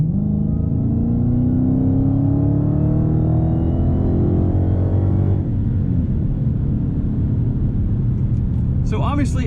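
A 2016 Dodge Challenger SRT Hellcat accelerating, its engine rumbling loud and close with a steadily rising pitch as it picks up speed, fading slightly toward the end.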